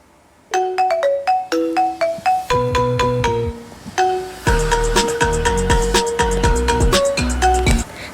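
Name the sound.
custom ringtone playing on iPhone/iPad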